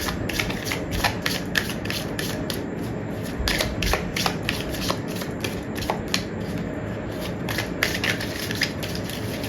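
Tarot cards being shuffled by hand, close up, with rapid, repeated riffling and flicking bursts in an uneven rhythm and no talking.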